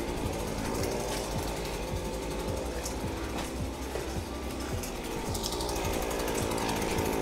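A HECHT multi-function garden tool with a saw attachment runs continuously, a loud, steady buzzing motor drone with slight rhythmic pulsing, close up and alone without talk.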